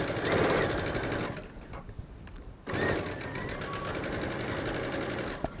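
Sewing machine stitching around the neckline of a Bella top at a 2.5 stitch length, a loud continuous motor hum with a brief pause partway before sewing resumes steadily.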